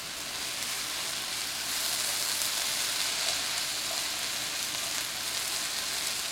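Onions caramelizing in a pan for onion soup in a home kitchen give off a steady, bright hissing sizzle, close and even throughout with no voices.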